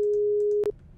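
Steady telephone ringback tone held as one long unbroken note while a call waits to be answered, then cut off abruptly by a short burst near the end; loud and alone, with no talk.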